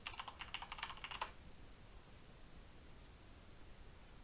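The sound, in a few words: computer keyboard typing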